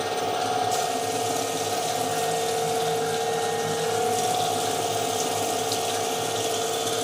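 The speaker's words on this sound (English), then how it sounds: "Spindle on, coolant on." Coolant pump running on a milling machine with the spindle turning, a steady mechanical hum and whir with a rattling, ratchet-like texture and splashing liquid, continuous and moderately loud.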